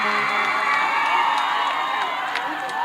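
Crowd at the Pindra Mahotsav stage show cheering and whooping to welcome Bhojpuri star Pawan Singh, a dense, steady roar of voices with occasional sharp shouts, continuous and loud throughout.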